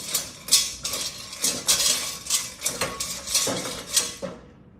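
Meatball mixture being mixed in a bowl for pasta, giving a steady run of clinking, scraping strikes against the dish at a roughly even rhythm, close and fairly loud, with no talking over it.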